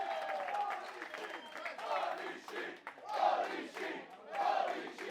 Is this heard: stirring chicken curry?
no